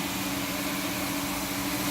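Motors of an S12 ride-on wet floor scrubber run in eco mode, giving a steady, moderate low hum with a faint tonal whine that holds level throughout, with no voices.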